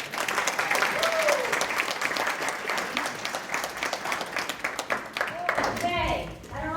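An audience at a women's leadership conference keynote breaks into sustained applause to welcome the speaker, steady clapping filling the room with a voice briefly heard near the end.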